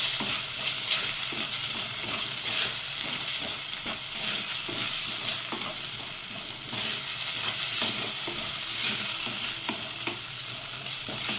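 Chicken curry masala fries in oil inside a clay pot, a continuous loud hiss and crackle with soft rhythmic scrapes of stirring, close up and without any talking.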